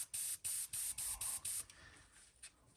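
Six short, even bursts of an Iwata HP-CH airbrush hissing out paint onto a fishing lure in quick succession, then a faint quiet hiss as the spraying stops.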